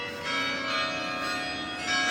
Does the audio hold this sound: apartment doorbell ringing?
yes